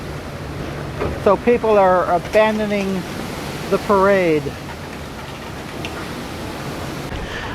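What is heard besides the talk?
sudden strong wind and light rain at outdoor parade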